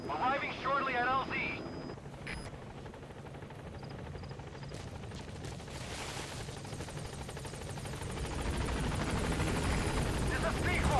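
A support helicopter in Metal Gear Solid V: The Phantom Pain arrives at a landing zone, its rotor drone growing steadily louder and closer, with a brief voice over the radio at the start.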